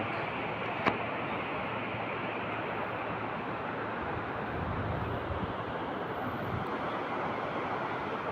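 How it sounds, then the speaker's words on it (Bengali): Sea waves wash onto a beach at sunset, near red crab burrows, as a steady broadband surf roar mixed with wind buffeting the microphone. One brief knock sounds early; no one speaks. "আর সমুদ্র ঢেউ"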